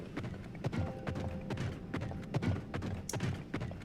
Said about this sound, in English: Ooh, stall horses